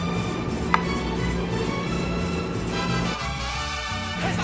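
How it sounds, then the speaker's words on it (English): A knife chops tomatoes on a board, producing soft, steady rapid taps under a constant background hum, with one sharper click partway through. "Now we're cutting the tomatoes."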